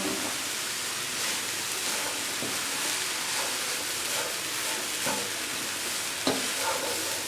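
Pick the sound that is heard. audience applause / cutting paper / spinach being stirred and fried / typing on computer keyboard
spinach being stirred and fried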